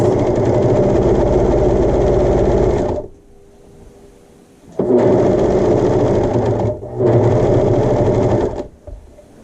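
A home overlock serger stitches with newly threaded cones, loud close mechanical whirring in three bursts separated by short pauses.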